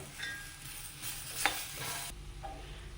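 Two small ripe tomatoes fry in the masala for an egg curry, giving a steady close sizzle with brief stirring scrapes of the pan.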